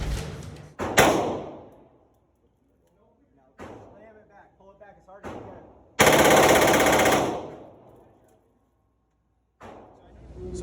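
Loud single gunshots from an FN P90 at an indoor Texas gun range ring out a few seconds apart, each a sharp crack with a ringing tail, the last one a long, heavy burst, while people talk between the shots.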